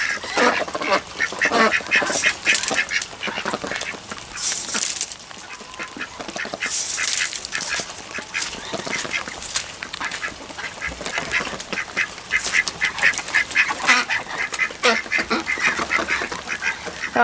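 Farm ducks quack steadily in a busy, dense chorus through rain, close and continuous, with no clear talk over them.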